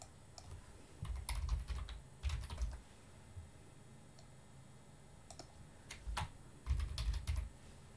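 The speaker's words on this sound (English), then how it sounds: "I can type it in here." Quick bursts of typing on a computer keyboard, soft close clicks in short clusters separated by pauses, quiet and without any talk.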